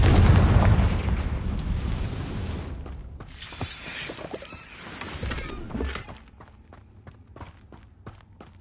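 A Confringo blast spell in Hogwarts Legacy sets off a loud booming burst with a rumbling tail, followed by fainter scattered cracks and thuds fading out.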